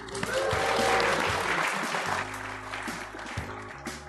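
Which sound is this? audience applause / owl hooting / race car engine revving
audience applause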